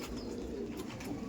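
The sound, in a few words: pigeon cooing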